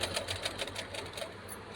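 A sewing machine stitches the shoulder seam of a dress in a fast, even run of rattling needle strokes, close but fairly faint, with no talk over it.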